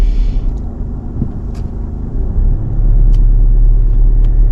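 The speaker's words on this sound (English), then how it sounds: "And once these cars passed," Cars pass on a road near the West Didsbury driving test centre, heard as a steady low traffic rumble that swells as vehicles go by, with a few faint clicks.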